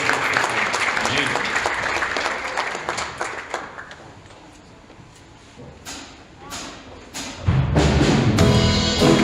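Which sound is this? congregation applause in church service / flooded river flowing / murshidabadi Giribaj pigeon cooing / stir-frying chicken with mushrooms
congregation applause in church service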